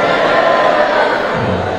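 An audience claps and cheers in a debate hall, a dense, steady wash of applause and crowd noise filling the whole stretch at high volume.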